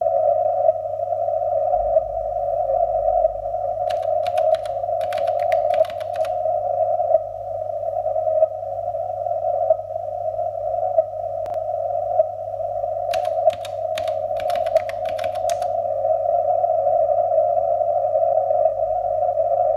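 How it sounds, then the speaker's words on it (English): An unusual radio signal picked up on an SDR receiver: a steady static hum with short bursts of rapid ticking that come in two clusters and stand out over the constant tone. "There's static in the background, but you can hear that ticking noise."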